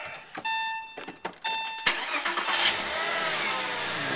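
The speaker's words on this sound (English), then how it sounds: "And we will now start the car." A Porsche Boxster engine cranks with a few rhythmic starter whirs after an alternator replacement, then catches and settles into a loud, steady running rumble close by.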